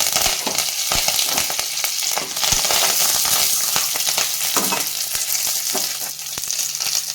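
Curry leaves frying in coconut oil with mustard seeds, urad dal and fenugreek for idli sambar, giving a loud, continuous close-up sizzle scattered with crackles and light stirring clicks, and no talking.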